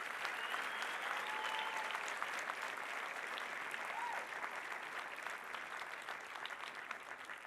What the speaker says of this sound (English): I want us to please give another round of applause to Dr. Moeti.